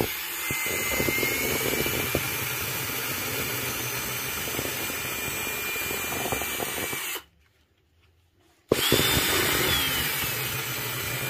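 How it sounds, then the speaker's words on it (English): A power drill fitted with a gold cleanup bit spins in a pan with a steady whirring hum, cuts out into near silence for over a second, then starts up again. "You don't have to spin the drill fast"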